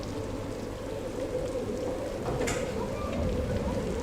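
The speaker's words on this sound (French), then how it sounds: "la tempête fait rage, la pluie et le vent battent contre les vitres fermées." Storm rain and wind beat against closed windows, a dense, steady wash of rainfall with a low rumbling roar that holds evenly throughout.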